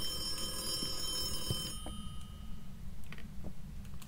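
An in-game telephone rings in the horror game Phasmophobia on the Bleasdale farmhouse map, a faint electronic trill that lasts about two seconds and then cuts off, followed by a few soft clicks.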